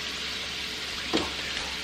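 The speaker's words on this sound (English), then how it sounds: "the wings are pretty fully submerged, so they're basically deep frying at this point" Steady sizzling and bubbling of chicken wings deep frying in hot oil, a continuous hiss with a brief louder pop near the end.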